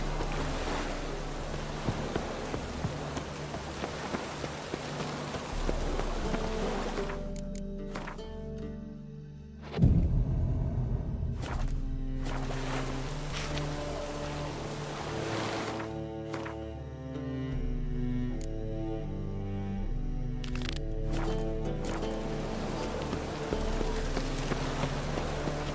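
Rain falls in the video game Witcher 3 Wild Hunt as a steady, even hiss. Game music swells over it after a few seconds, with a dull thud partway through.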